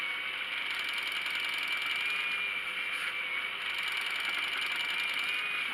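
A spinning wheel rattles steadily while plying yarn on an uneven bobbin, a continuous close mechanical clatter with a bright whirring tone, no voices.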